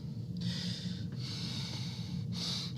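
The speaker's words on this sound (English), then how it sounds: "A little nose breathing and I feel just fine." Three long, noisy breaths drawn in and pushed out through the nose, loud and very close to the microphone, with brief pauses between them and a steady low hum underneath.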